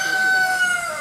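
Free range chickens on an organic farm cluck and call close by in a brief burst, their voices loud and clear against the open outdoor setting.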